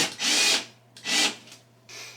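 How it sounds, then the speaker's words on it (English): A power drill whirs in two short bursts with a brief pause between them, followed by a quieter third burst, close and loud, drilling a new screw hole in a wall. "I could drill a new hole."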